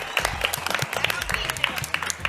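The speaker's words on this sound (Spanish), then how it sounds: "Un aplauso para Corbetto." A studio audience applauds on a televised cooking show, with dense clapping that pulses throughout the short stretch while voices stay faintly present underneath.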